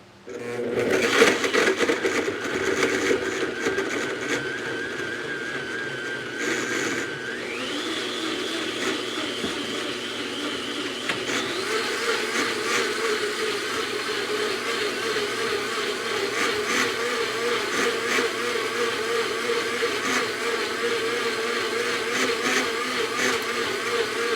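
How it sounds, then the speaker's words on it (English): Kitchen blender whirring continuously while blending a healthy shamrock shake with green leaves, loud and close, its motor pitch stepping up partway through and holding steady to the end. "I'm gonna put the blender on, excuse the sound, just till it gets all well and incorporated."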